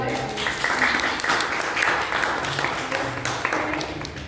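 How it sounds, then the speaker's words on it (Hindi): Scattered audience clapping at an open mic poetry night in Jammu, steady and moderately loud throughout, with a few voices murmuring underneath. "ताली तो बजा लो."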